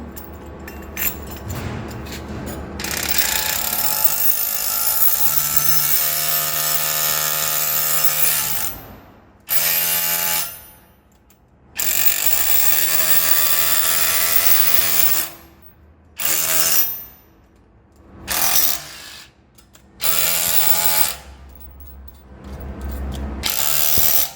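A hammer drill fitted with a setting tool, run in hammer-only mode to drive anchors for safety roof anchors. Loud, close, rapid rattling bursts, several long runs cut by abrupt stops and short restarts, no talking.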